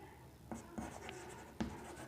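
Pen writing a letter by hand on paper, a few soft, close scratching strokes with quiet pauses between them, no voice.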